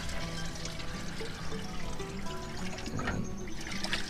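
Water is poured to refill a swamp fertilizer container, a steady continuous splashing trickle heard up close with a slight change in tone near the end.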